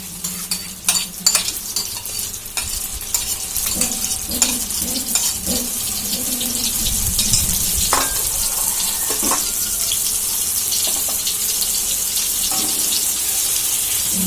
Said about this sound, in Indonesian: Bumbu yang kita blender tadi itu kita goreng semuanya pakai bumbu stok ya guys